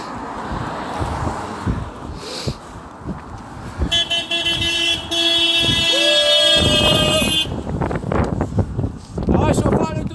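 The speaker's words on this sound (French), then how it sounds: "Klaxon!" A city bus blares a long, steady horn at a street protest outside Radio-Canada in Sherbrooke, loud and close over wind noise, traffic and excited voices.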